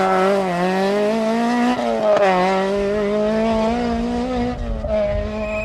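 A rally car driven by forestry rally expert Stephen Emerson at the 1992 Donegal International Rally roars past on a tarmac stage, its engine note steady and loud, rising and falling slightly through the gears over several seconds.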